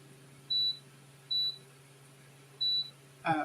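Three short, high electronic beeps at even intervals from a nearby oven, followed by a brief clatter at the end.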